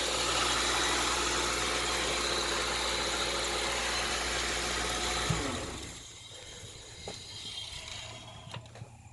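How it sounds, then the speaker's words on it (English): A 1996 Ford Thunderbird idles with fresh oil after an oil change, a steady close engine hum that cuts off around the midpoint, leaving quiet ticks and faint clinks afterward. "let the engine run for a minute with the new oil in it"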